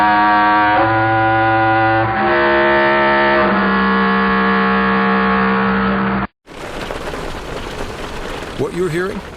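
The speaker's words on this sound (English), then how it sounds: "What you're hearing is Hardie Fiber Cement Siding living up to its reputation as the siding that handles hail impact with ease" Hail pelts James Hardie fiber cement siding in a dense, steady hiss of impacts that starts abruptly after a held musical chord. A voice begins to speak over it near the end.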